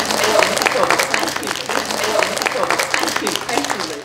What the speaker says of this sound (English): you can give her a clap.